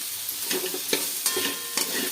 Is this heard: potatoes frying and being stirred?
yes